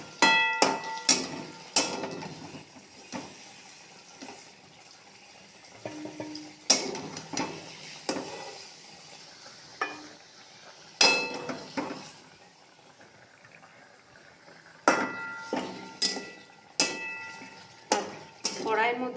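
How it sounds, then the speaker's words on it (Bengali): A metal spatula scrapes and clinks against a kadai while stuck bits are loosened into the oil during paneer masala cooking, sharp intermittent scrapes and taps in clusters, close by with light talk between. "কড়াইয়ের মধ্যে যেগুলো লেগে গেছে সব চেঁচে রেখে দেবেন তেলটাকে"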